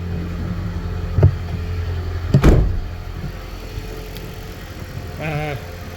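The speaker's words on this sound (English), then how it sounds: "So yeah, the vehicle has started." A Toyota Prius hybrid running after a jump start gives off a low, steady mechanical hum at close range, broken by a couple of short knocks and a brief burst of higher whirring near the end.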